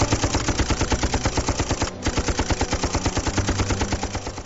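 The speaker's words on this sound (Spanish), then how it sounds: "Las ametralladoras Maxim de Rhodes iban segando una y otra vez a los Matabele que avanzaban" Maxim machine guns in rapid sustained automatic fire, a loud dense stream of evenly spaced shots with a brief gap partway through before firing resumes.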